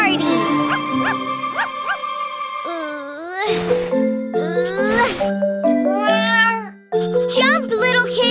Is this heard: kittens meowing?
yes